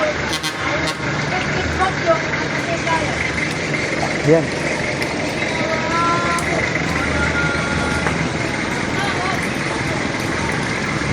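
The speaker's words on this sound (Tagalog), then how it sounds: "Pumirit na yung mga motor, oh. Oh, sasakyan," Cars, motorcycles and jeepneys pass along a busy city road near an LRT line heading to Monumento, a steady traffic rumble with engine swells, a voice talking over it throughout.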